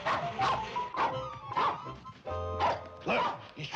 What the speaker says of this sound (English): The dog will keep barking and circling the tree while Bobby Joe goes around this way.